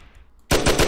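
Video game gunfire shooting monsters: after a quiet half-second, a loud burst of rapid automatic shots erupts, about four or five quick, evenly spaced reports close up, with no talk.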